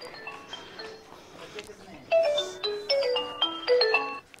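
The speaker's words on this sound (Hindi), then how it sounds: "शौहर का फोन आ गया" A mobile phone rings with a melodic electronic ringtone of bright, stepping tones, starting softly and then sounding louder in repeated phrases, with someone talking faintly in the background.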